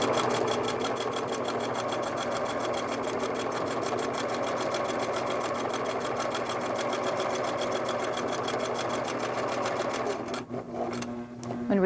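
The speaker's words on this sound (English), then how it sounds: "Then continue following the line down through the block." A sewing machine stitches a quilt block with a fast, steady mechanical whir and rhythmic needle clatter, running continuously before slowing and stopping near the end.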